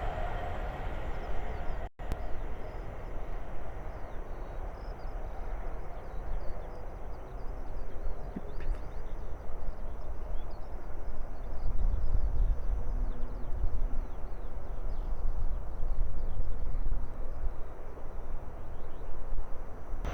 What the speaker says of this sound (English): the next train to pass by is a Hull Train 800 from Lincoln Central to London King's Cross.